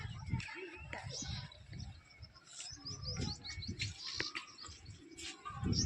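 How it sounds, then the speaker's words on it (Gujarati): Pigeons on a rooftop feed on scattered wheat and rice, giving soft scattered chirps and faint cooing over a broadband outdoor background, with people talking nearby and some bumping and handling noises. "ધાબે પેશા કબૂતરાને ખાવા નાખ્યા છે।"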